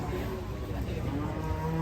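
Cattle at the Muntilan livestock market low and moo amid a noisy crowd, with people talking loudly over the animal calls and a drawn-out bovine tone rising from the background din.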